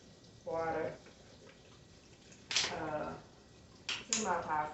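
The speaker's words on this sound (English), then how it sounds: "I'm gonna add some more water to it though." Water poured from a tap into a pot of pasta in a home kitchen, three short splashy bursts separated by quieter pauses, close and moderately loud.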